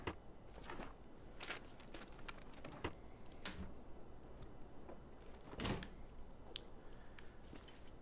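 Drawers open and close in The Long Dark video game, a series of short wooden knocks and slides spread unevenly over several seconds, moderately quiet with no speech.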